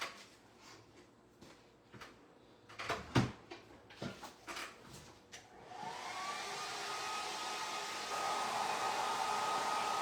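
Hair dryer blowing on a Santa-style holiday craft: a few handling clicks and knocks come first, then the dryer switches on midway into a close, steady whirring roar that grows slightly louder toward the end.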